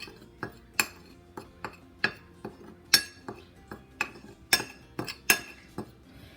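A spoon clinks steadily against a bowl as ground cardamom, allspice and other ground spices are mixed for apple pie spice, a dozen or so sharp, bright taps in an uneven rhythm, close and clear with no talking.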